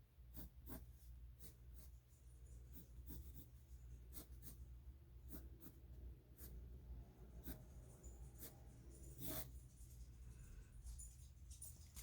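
Pen or pencil scratching across paper while a brick background is drawn by hand: quiet, close strokes and short ticks in an uneven rhythm over a low steady hum, with no talking.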